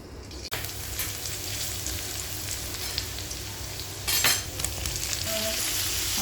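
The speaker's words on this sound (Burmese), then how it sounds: "ဒါလည်းပဲပြာကြော်နေပါနော်" Tofu fries in a pan with a loud, steady sizzle close by, a sharp clack at the start and a burst of stirring and scraping partway through, with no talking.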